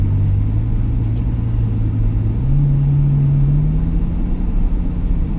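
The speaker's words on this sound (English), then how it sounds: "we're in the GTC4LUSSO. Amazing car, amazing to drive" A Ferrari GTC4Lusso engine hums steadily from inside the cabin while driving, a low droning note that rises gradually in pitch as it pulls, with constant road rumble and no talk.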